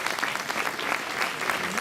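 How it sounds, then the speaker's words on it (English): Dense audience applause at a Democratic Party gala honoring a governor, steady and sustained throughout, filling the room with a continuous wash of many hands clapping. "let us give her a round of applause for the leadership that she provided us."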